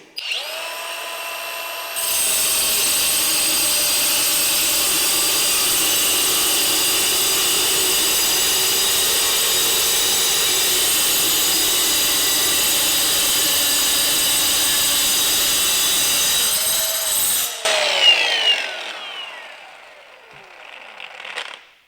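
A saw cuts through mild steel flat bar, 1.5 inches wide and 1/8 inch thick, as a steady loud whine that runs unbroken for about fifteen seconds and then ends in a short clatter.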